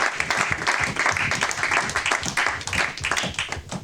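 A church congregation claps and cheers for the singers during a French-language service, steady loud applause with scattered shouts sustained throughout.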